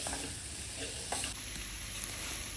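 Salt is stirred into a chopped green apple pickle mix, making a steady wet, crackling shuffle with a few sharper scrapes, close up and with no talking.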